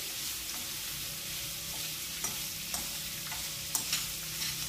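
Plums sizzle in a hot pan with a steady, close hiss while a spoon stirs them slowly, adding occasional soft scraping clicks.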